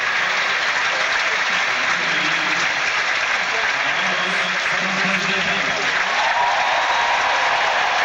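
Sustained, broad applause from a large stadium crowd at the 1996 French Open women's final on clay at Roland Garros, a steady wash of clapping running evenly for the whole stretch with no voices on top.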